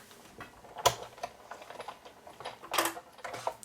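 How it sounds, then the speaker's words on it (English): Cardstock feeds through a Big Shot embossing machine, giving faint, close, irregular clicks and soft rustling crunches with two louder bursts, and no voices. "I'll run it through my Big Shot machine so that I have a really pretty texture on my white cardstock."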